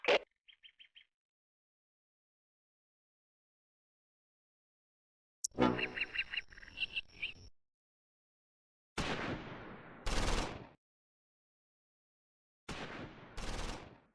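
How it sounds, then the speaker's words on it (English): Bursts of gunfire in the World War II game Close Combat 4, with a few faint chirps at the start, then separated volleys of automatic fire and sharp shots with pauses of silence between them. "Burgundy opens fire on the flame half-track."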